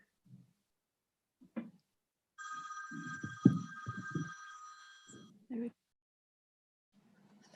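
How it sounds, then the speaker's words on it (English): Telephone bell rings in a meeting room during a Senate Judiciary hearing, a steady electronic ring lasting about three seconds, fairly loud, with people talking underneath and around it. "I don't know where those rings come from. The mysterious phone in all the meetings."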